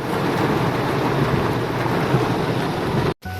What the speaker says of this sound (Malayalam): നല്ല മഴയുണ്ട്, കൊരിച്ചൊരിയുന്ന മഴ.